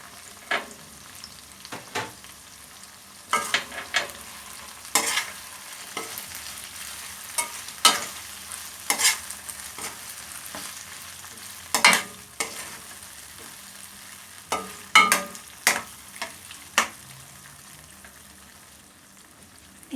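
Beef and tofu sizzle in a pan while being stirred: a soft bed of frying hiss broken by irregular sharp scrapes and clacks of the utensil against the pan, spaced unevenly over twenty seconds.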